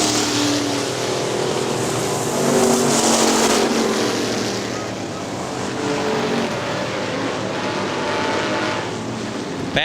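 Super stock race cars roar around Hartford Speedway Park in a continuous, loud engine drone that swells and fades slightly as the pack passes, with a faint voice mixed into the track noise.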